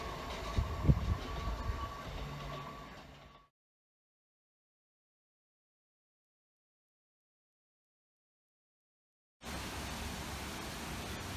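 A continuous broad roar of a northbound freight train rolling past at Swinderby, steady and fairly close, cut off abruptly into silence and then resuming.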